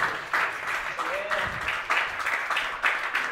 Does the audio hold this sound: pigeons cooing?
no